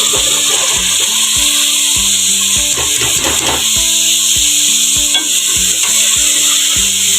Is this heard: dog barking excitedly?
no